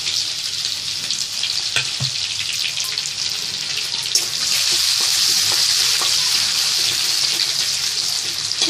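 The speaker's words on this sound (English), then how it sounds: "Saute it for some time." Chopped ginger and garlic saute in hot oil in a pan, a continuous loud sizzle that brightens and thickens about halfway through, with a few stirring knocks.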